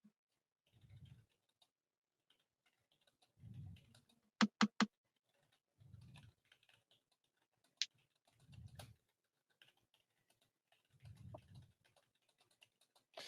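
Keyboard typing in short bursts, spaced clusters of soft clicks separated by quiet gaps, with a few sharper isolated clicks in the middle; close and fairly faint, no voices.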